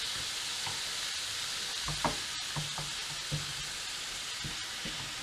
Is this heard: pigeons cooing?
no